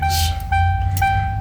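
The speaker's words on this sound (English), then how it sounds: "The window isn't moving. We're hearing a clicking noise." Repeated electronic beeps sound over a low, steady rumble inside a 1994 Ford Thunderbird SC with a stuck power window, three short tones in an even rhythm, close and clear.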